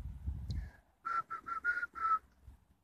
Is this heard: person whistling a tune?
yes